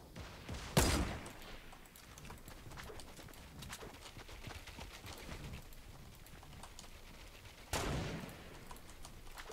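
Fortnite sniper rifle fires twice, each shot a loud, sharp crack with a decaying tail, several seconds apart over low game ambience with faint clatter.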